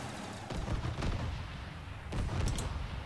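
An artillery barrage in a strategy video game thuds and rumbles as a dull, steady stream of distant impacts, with a few stronger booms standing out, moderately quiet and with no voices.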